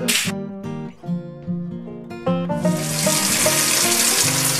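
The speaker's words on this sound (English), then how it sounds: "Preparing some bath water for the baby." Water pours into a baby's bath, a steady hissing rush that starts partway through and continues loudly to the end, after a few tonal clinks and sounds.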